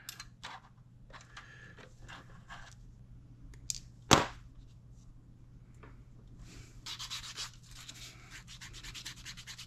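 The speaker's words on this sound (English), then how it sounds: "I like using sanding sponges for curved surfaces" A sanding sponge rubs over a curved surface of a Tiger I tank scale model's fender, in quiet repeated scratchy strokes with brief pauses and one sharp click partway through.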